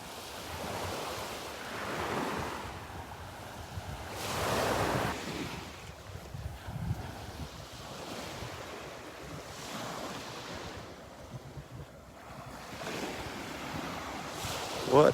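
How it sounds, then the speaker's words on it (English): A light breeze blows across a beach in North Naples, Florida, gusting softly in waves over the low wash of surf, with faint buffeting against the microphone and no voices. "A little bit of a breeze here, just a little breeze blowing."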